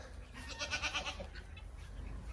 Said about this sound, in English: And then here's some of our baby goats.